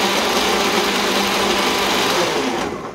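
A kitchen blender grinds a berry milkshake smoothie made with milk and jam, giving a loud, continuous high-pitched whirr up close that tapers off as it stops near the end.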